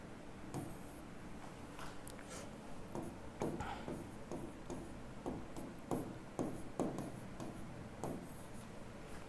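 Chalk or marker writing on a board during a chemistry lesson, steady scratchy strokes in short bursts over about nine seconds, close and moderately loud with no talk.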